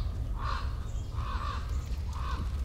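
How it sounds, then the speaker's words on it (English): Crows cawing in the Master Reboot video game, three evenly spaced calls over a low steady hum, moderately distant and clear. "crows."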